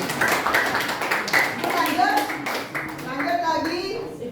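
Classroom applause from a group of children and teachers, a few seconds of steady clapping mixed with voices talking and calling out over it.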